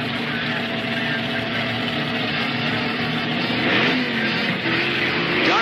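1969 NHRA Super Stock muscle cars, a Dodge and an East Coast Ford, launch off the line at a drag race, their loud engines roaring together and revving upward near the end.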